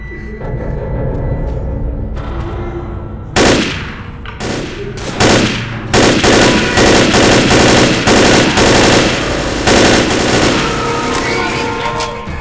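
Automatic gunfire in the Left 4 Dead zombie shooter, on the Dead Air terminal level, with long rattling bursts and separate sharp shots over a constant rumbling game background, loud and close.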